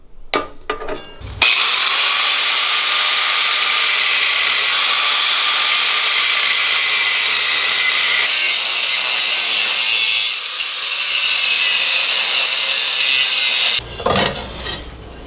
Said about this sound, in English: So I'm going to get to cutting these tacks off.